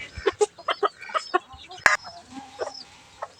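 A bantam chicken clucks in a rapid series of short, close, sharp calls, followed by a louder squawk and a few softer clucks.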